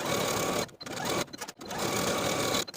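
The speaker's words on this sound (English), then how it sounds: "Now we can take all of these pockets to the sewing machine and sew them with a 1/4 inch seam allowance from top to bottom." A sewing machine stitching pants pockets with a 1/4 inch seam runs in fast, steady bursts, stopping briefly twice between runs of close, loud mechanical whirring, with no speech.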